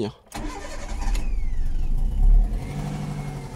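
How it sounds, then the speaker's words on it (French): A Toyota Yaris, being fitted with high-flow fuel injectors, cranks and its engine starts, settling into a close running drone with a brief rev; a short spoken word is heard. "Je démarre la voiture et puis vous allez entendre le bruit."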